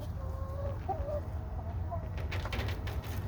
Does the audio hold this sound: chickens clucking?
yes